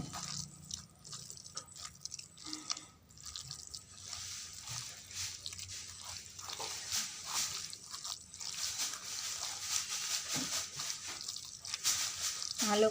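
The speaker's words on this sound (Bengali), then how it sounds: "দিয়ে এটাকে ভালো করে মাখিয়ে নেব।" Hands mix minced beef with ground garam masala and gram flour, giving soft, wet squishing and sticky slapping sounds that come in irregular bursts, close and quiet, with a voice talking over parts of it.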